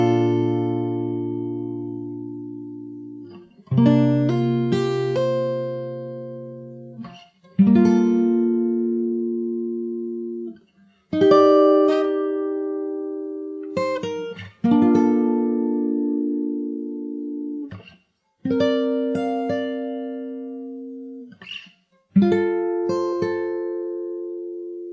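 Acoustic guitar picked fingerstyle plays a song intro slowly, with seven ringing chords spaced evenly, each let to sustain and fade before the next, played alone.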